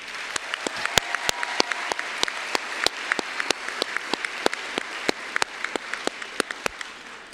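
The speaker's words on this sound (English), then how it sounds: "Now's the appropriate time to give them a big round of applause." Scattered applause from a graduation audience at an alternative school ceremony, sharp individual claps standing out over a steady patter of hands for several seconds, no voices.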